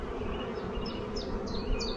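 Honey bees hum in a dense, steady buzz close by at an open hive during a spring inspection, with faint higher whines of individual bees flying past.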